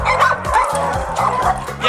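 Several dogs at a doggy daycare and training facility bark in quick, overlapping yips and bow-wows, close and lively, with a few whimpers. It is a constant chorus with no clear talk.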